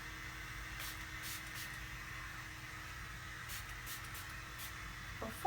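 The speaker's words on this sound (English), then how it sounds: "So what I'm gonna do is take this and spritz down the hair." Short spritzes of L'ange hair product from a spray bottle misted down onto hair, soft hissy bursts repeating through a steady background hiss, fairly faint and close, with a louder handling noise at the very end.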